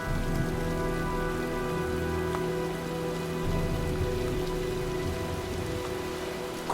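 Steady heavy rain pours down in a stormy scene from the video game Heavy Rain, a dense continuous hiss of drops on surfaces with a low rumbling undertone, unbroken and close throughout.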